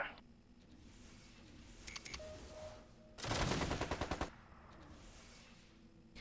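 Mechs firing weapons from behind a wall in MechCommander 2, heard as a short burst of sharp electronic shots followed by a loud, rapid machine-gun-like volley lasting about a second, with quiet battle ambience around it.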